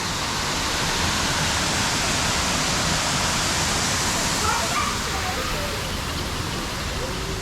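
A waterfall at a lazy river aviary pours steadily, a constant rushing hiss of falling water at moderate level, with faint bird chirps briefly audible beneath it.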